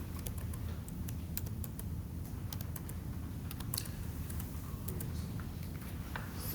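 Keys tapped on a computer keyboard while numbers are entered into a statistics calculation, scattered irregular clicks, fairly faint over a steady low background hum.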